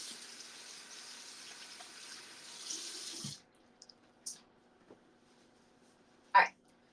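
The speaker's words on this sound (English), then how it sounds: "Just rinse that off one sec." Water runs steadily from a tap while face scrub is rinsed off, then stops, leaving faint drips and small splashes and a short rustle near the end.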